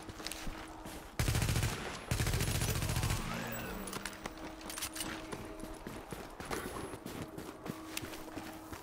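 Heavy gunfire in The Division, with loud bursts of automatic fire packed into a two-second stretch near the start, followed by scattered, more distant shots and clatter under background game noise.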